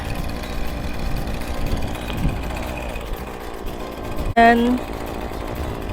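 A gas string trimmer engine runs with a buzzing, rattly drone that rises into a sharper whine near the end, while a person speaks over it.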